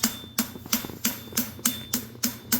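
Hammer blows on a steel bar horseshoe at the anvil, shaping material around a weld for a concave inverted barshoe: eight sharp, evenly spaced ringing strikes in steady rhythm, close and loud, with no talk.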